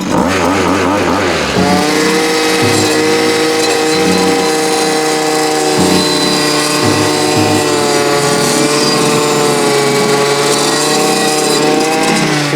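A Dnipro-M 50RX petrol brush cutter cuts into a tree stump, its two-stroke engine revving loudly and continuously with a steady high-pitched whine and brief dips in pitch as the blade bites into the wood.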